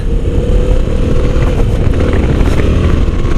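A Yamaha Tracer 700 motorcycle engine runs close and loud, holding a steady, unbroken drone with a slight pulse and no voices.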